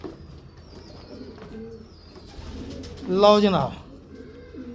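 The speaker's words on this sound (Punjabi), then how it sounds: "ਸਿਆਲਕੋਟੀ ਕਬੂਤਰ ਆ ਗਿਆ ਜੀ।" A Sialkoti pigeon gives a short, close cooing burst among faint rustling and handling noises, while someone speaks briefly nearby.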